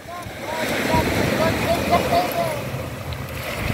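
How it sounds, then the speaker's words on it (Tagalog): Strong sea waves wash and churn against a pier at Damortis, La Union, a continuous rushing roar with wind buffeting the microphone and voices faintly in the background. "malakas na alon."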